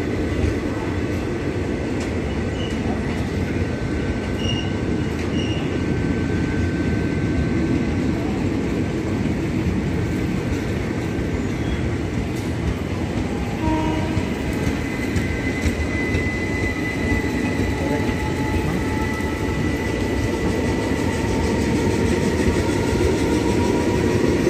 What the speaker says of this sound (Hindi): इस ट्रेन का पिनौंडा रेलवे स्टेशन में हाल्ट नहीं है दोस्तों